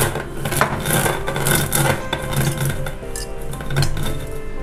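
Cashew nuts are crushed with a stone on an ammi grinding slab, giving repeated gritty knocks and scraping strokes, close and steady, with no talk.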